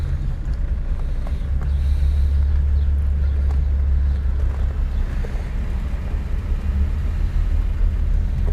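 A 1941 Lincoln Continental coupe with a 12-cylinder engine cruises along, giving off a low, steady rumble of engine and road noise from inside the cabin, with the engine itself very quiet.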